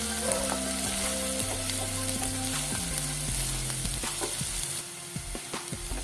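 Steady, loud sizzling of onion sautéing in a pan for an Indian boiled-egg dish, with occasional stirring scrapes and clinks on top of a continuous frying hiss.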